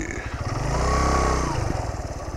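A motorbike engine, stuck near a frozen waterfall at Manthoka near Skardu, revs up loudly, holds a strained roar for about a second, then drops back to a chugging idle.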